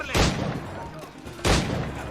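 Two pistol shots ring out in the pirate-era action game Assassin's Creed Black Flag, sharp loud blasts about a second apart, each trailing into a short echo over faint background game ambience.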